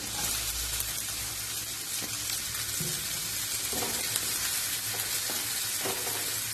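Onions sizzle steadily in a hot pan, a continuous close crackle with occasional soft stirring scrapes.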